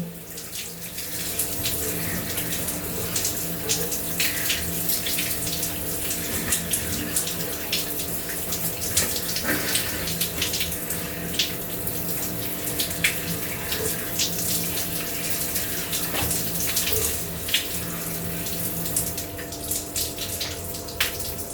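Water runs steadily from a shower head close by in the onboard shower of a Singapore Airlines A380, a continuous hiss and patter with faint drips, no voices.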